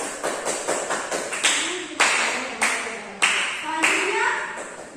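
Students in a classroom clap for a classmate, with quick light claps at first and then several louder bursts of applause, while voices talk underneath.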